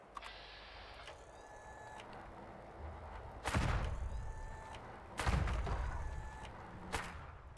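Anti-armor gun fired in the Fallout 76 video game: two heavy booming shots with a trailing rumble, spaced a couple of seconds apart, then a lighter thud, over quiet mechanical game ambience.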